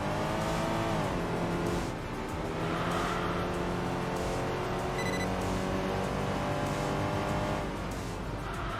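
Race car engine in Enthusia Professional Racing pulls hard through the gears, its steady loud whine climbing in pitch and dropping at each shift, with faint tyre noise as it powers out of corners.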